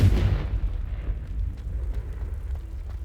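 A Confringo blasting spell explodes in Hogwarts Legacy, a single deep rumbling boom that fades into a low roll over a few seconds.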